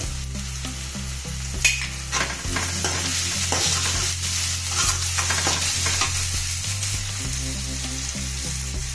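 A sabudana oggarane tempering fries in a pan, with a constant close sizzle broken by scraping stirs and small clatters. A low steady hum runs underneath and no one speaks.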